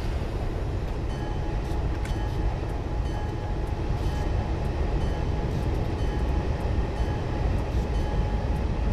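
A steady, continuous rumble of an FL9 locomotive train running on rails on the Springfield Line in Train Simulator 2016, low and constant throughout with faint clattering, no voices.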